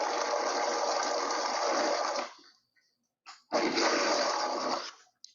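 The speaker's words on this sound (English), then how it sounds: "And then we're going to just give it a whiz in the blender." A blender whizzes berries and sweetener into jam in two loud, steady bursts, the first running about two seconds before cutting off, then a short pause and a second run.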